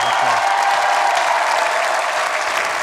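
Steady, dense applause from a crowd fills the whole stretch, sustained and even in loudness with no pauses.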